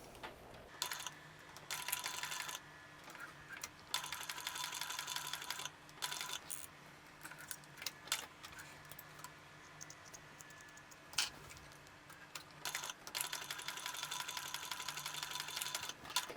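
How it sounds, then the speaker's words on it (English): Sewing machine topstitching a fabric wristlet, running in several bursts of rapid mechanical rattling separated by short pauses, close and fairly quiet with no speech. "Now we want to top stitch 1/8 inch from both sides."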